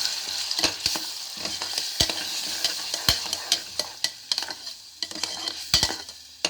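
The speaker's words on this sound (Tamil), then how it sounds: "வச்சுருக்கிற தக்காளியும் வெங்காய விழுதை நம்ம இதில் சேர்த்துக்கலாம் நல்லா வதக்கி விட்டுறது" Tomato and onion paste sautéing in a pan for mutton thokku, with a soft sizzle beneath frequent sharp scrapes and clanks as a spoon works the pan at close range.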